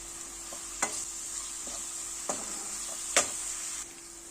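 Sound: sautéing chopped pepper with green beans in olive oil

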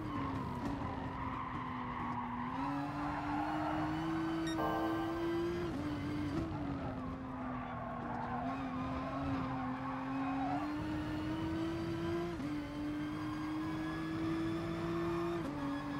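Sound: GTR race car engine on the straights in GT Sport video game

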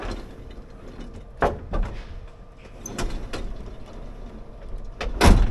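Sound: closing the sliding door of a capsule hotel pod

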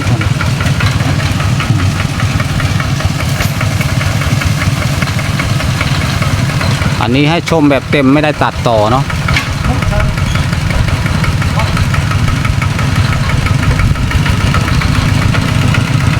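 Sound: hand-started walking tractor engine running

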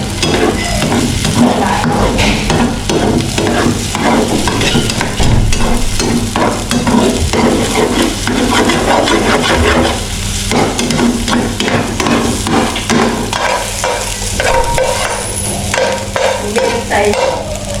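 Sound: eggs frying and being stirred in a pan on the stove

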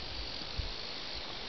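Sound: late night grasshopper choir in late summer

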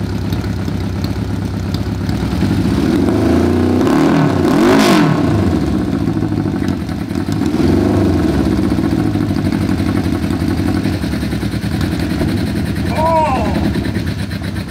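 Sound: 550cc engine in Little Tikes car cranking up and revving

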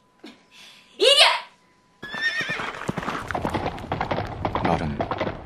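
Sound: horse neighing

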